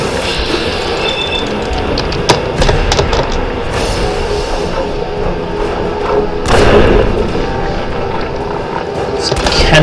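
A Mirelurk Queen battle plays out at the North Bridge in Far Harbor in Fallout 4, with loud dense rumbling, heavy thuds and clanks, and sharp impact bursts over constant noise.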